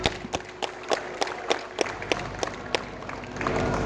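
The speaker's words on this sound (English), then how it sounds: "I'd like to just take 1 second and give the organisers a big round of applause" Scattered applause from a rally crowd for the event organisers, fairly faint and sparse, with separate claps popping out at irregular intervals and swelling slightly toward the end.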